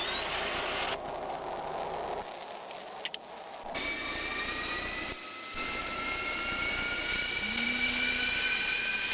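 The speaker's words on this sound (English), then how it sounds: "We only use one switch to turn on the battery and another switch to start the jet fuel starter." An F-16C jet engine spins up on its jet fuel starter with a rising high-pitched whine and roar. The steady turbine tones climb as it comes up, briefly interrupted, then hold loud and close with no speech.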